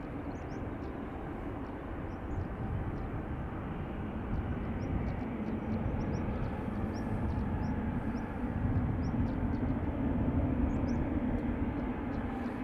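An Aer Lingus Airbus A330 arriving at Dublin Airport from JFK roars as a broad, steady jet rumble, building slightly louder toward the end, with no voices over it.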